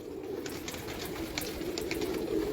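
Pigeons coo softly and continuously on a rooftop in Pakistan, a low repeated murmur with faint higher chirps over steady background noise.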